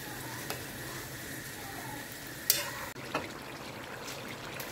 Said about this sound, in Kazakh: Дәл солай қатты отта барлығын осылай араластырып, тағы осылай қайнатамыз.